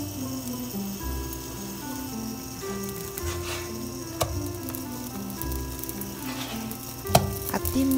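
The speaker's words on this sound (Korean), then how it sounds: "호떡도 기름에 구워야 제맛" Hotteok, a Korean sweet pancake, fries in oil in a pan, a steady close sizzle with occasional pops and crackles as it is pressed with a spatula, and soft music underneath.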